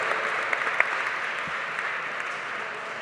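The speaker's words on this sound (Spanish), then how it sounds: "Un aplauso para todos nuestros académicos." An audience at a university magazine launch applauds panel academics with a steady, even wash of many clapping hands, a few sharper nearby claps popping out early on.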